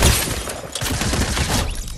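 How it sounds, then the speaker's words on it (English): Drum gun fire in Fortnite Battle Royale, rendered as a dense, loud burst of rapid automatic shots that runs almost unbroken for about two seconds with no talk. "the drum gun, what do you guys think about it? It took a hefty nerf"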